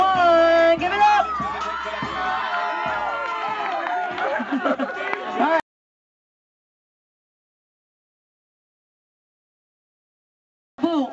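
An audience at a dance contest cheers and whoops loudly under an MC's voice for about five seconds, then goes silent, and the noise briefly returns at the very end.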